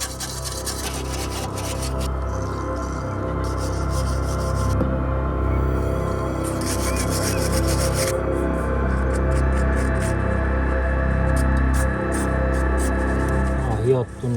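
Metal on a VW T4 van's rear brake is sanded smooth, with steady close rubbing and rasping strokes that run throughout, under quiet background sound.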